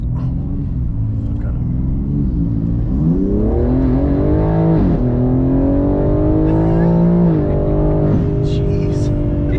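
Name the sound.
BMW M3 G80 600hp car accelerating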